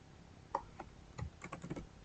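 Keys clatter on a computer keyboard during a copy-paste step in a mapping task: a few sharp taps followed by a quick cluster of clicks, close and quiet, with no speech.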